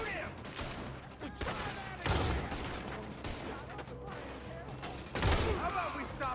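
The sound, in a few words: gunfire in the video game Red Dead Redemption 2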